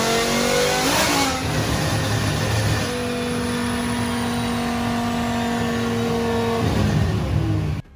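A BMW E60 M5 V10 engine on a dyno climbs from a rev into a long sustained high-rpm wail, then drops back and cuts off abruptly, loud and close with no talk.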